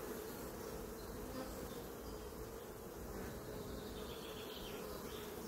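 Honey bees swarm and buzz around an open hive as frames are inspected, a steady, dense drone that runs unbroken and fairly faint throughout.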